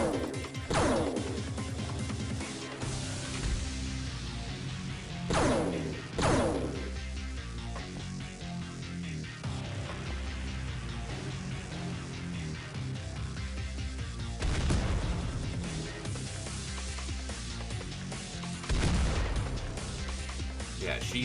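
Gauss gun fire in the turn-based strategy game XPiratez, with several heavy, sharp crashing shots spaced across a dense, busy game soundscape, with a voice talking over the action.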